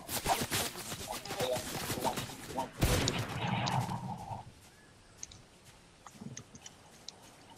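Rapid gunfire from enemies shooting down from a rooftop in a video game, a dense crackle of shots for several seconds, then sparse faint pops trailing off, with a voice talking over part of it.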